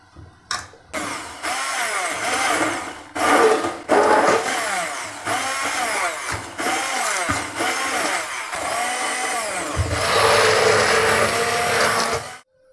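A blender grinding green chillies whirs loudly in repeated pulses, stopping and starting several times, with a harsher, louder run near the end.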